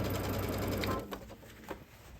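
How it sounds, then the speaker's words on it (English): Sewing machine stitching fabric for an embroidery project, a close fast rapid whir that runs for about a second and then stops, followed by a few soft clicks and handling noises. "we're gonna sew all the way around, leaving a little gap"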